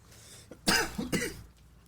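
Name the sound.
coughing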